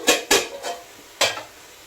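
A ladle scrapes and knocks against a pan while crab gravy is stirred, giving four sharp metallic clinks in quick, uneven succession.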